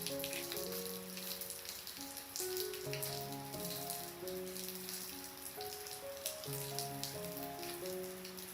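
Heavy rain pours outdoors as a steady, dense hiss of drops, with a melodic tune playing underneath throughout.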